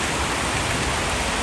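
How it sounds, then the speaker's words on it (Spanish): Rain falls at a newly moved-into house as a dense, constant hiss, loud and even throughout with no distinct drops or voices. "esta es la primera lluvia aquí en la casa"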